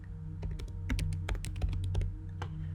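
Rapid keystrokes on a computer keyboard click in an irregular run of close taps, moderately loud over a faint steady hum.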